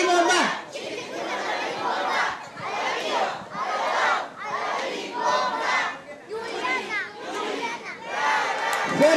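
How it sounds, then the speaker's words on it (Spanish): A crowd, children's voices among them, shouts a rhythmic cheer in unison at a Oaxacan celebration, with loud chanted bursts separated by short breaks and repeated across the whole stretch. "Y una porra a la cuenta de tres."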